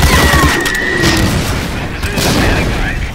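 A heavy grenade blast rumbles up loud and near in a World War II shooter game, Medal of Honor: Allied Assault, followed by a long rolling boom with gunfire and battle noise and faint talk underneath.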